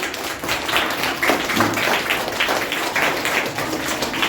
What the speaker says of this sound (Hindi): ताली बजाइए सर के लिए